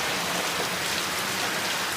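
Steady rain falls outside, a dense continuous hiss of drops on surfaces, loud and even throughout with no voices.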